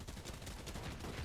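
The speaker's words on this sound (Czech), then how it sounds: "Slyším výstřely, koukej." Rapid gunfire in a video game, a dense, continuous burst of shots sounding distant and muffled, steady and fairly faint throughout with no talk over it.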